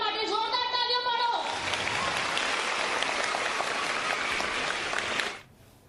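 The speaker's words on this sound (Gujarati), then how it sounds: "એમના માટે જોરદાર તાળીઓ પાડો।" An audience at a school event breaks into sustained applause. The clapping starts after a short spoken lead-in, stays loud and dense for about four seconds, then stops abruptly.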